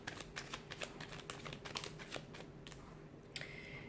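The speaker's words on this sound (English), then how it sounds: "We'll give the cards a shuffle and see what they're predicting for you this month." Tarot cards being shuffled by hand, a quick run of soft, crisp riffling flicks at close range, fairly quiet, with no talking.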